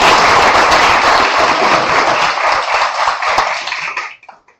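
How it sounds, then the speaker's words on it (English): Applause from the audience at an AI Appreciation Day company event, a dense sustained patter of many hands that is loud and close, then tapers off to silence over the last half second. "A big round of applause for everyone."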